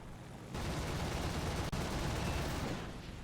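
MG 151 aircraft cannon fire from a fighter plane in a flight combat video game, a sustained dense burst starting after a brief pause and running loud and continuous, with a momentary break midway.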